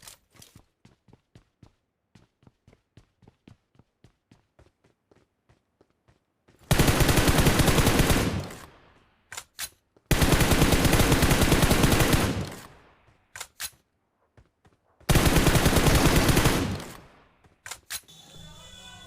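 Gunfire in the mobile battle royale game PUBG Mobile during a solo versus squad match: soft rhythmic clicks or footsteps, then three long loud bursts of automatic fire separated by short pauses, with a few single shots.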